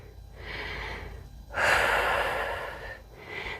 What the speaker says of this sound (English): Taking a few rounds of breath here.